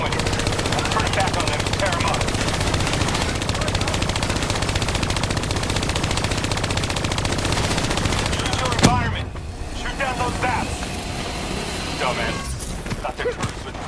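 Hijacked turrets in the video game Call of Duty Black Ops 3 rattle off dense, continuous automatic gunfire for several seconds, then cut off abruptly, leaving scattered quieter game noises and mechanical sounds.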